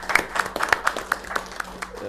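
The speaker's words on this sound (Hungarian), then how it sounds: "Tapsoljuk meg." Applause from an audience at a city council assembly in Érd, brief rhythmic clapping by a modest crowd, fairly close.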